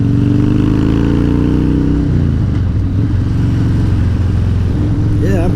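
A Harley Dyna motorcycle with a 103 engine accelerates loudly, its deep exhaust note climbing in pitch, easing, then pulling again through the gears.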